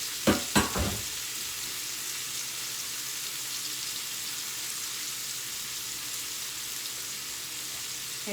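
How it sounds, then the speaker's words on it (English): Shrimp sizzling in a frying pan, a loud continuous hiss and crackle of hot oil held steady throughout, opened by a few sharp clatters near the start, with no speech. "So now that we have our shrimp in there, we're going to let our shrimp cook."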